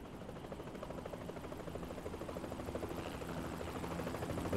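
A helicopter in the video game Yakuza 3 Remastered, a steady churning rotor drone that builds gradually in loudness over a few seconds, with no talk over it.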